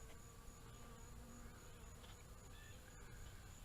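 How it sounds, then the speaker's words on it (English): A swarm of bees hums in a top bar hive with a steady, dense drone that stays even and faint throughout, no voices over it. "We have got a good sized swarm of bees"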